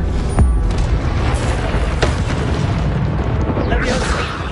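Spells are cast in the video game Hogwarts Legacy, producing loud booming bursts and sharp magical cracks over a dense rumbling background.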